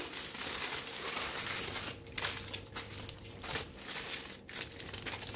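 Aluminium foil crinkles and crumples as roasted bottle gourd is wrapped up quickly, a continuous close rustle with brief pauses.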